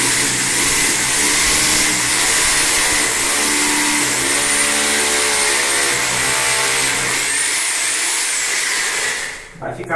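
Porcelain tile being drilled with a 6 mm bit during a toilet installation, a loud continuous whine of the drill with a shifting pitch that cuts off abruptly at the end, with a voice speaking over it.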